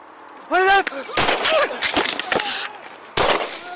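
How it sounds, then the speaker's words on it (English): Sharp, loud gunshot bursts from a quick-draw shootout play back in a recording. Three cracks come at uneven intervals, each cutting through people talking. "there's a gunshot right when the guy's like this"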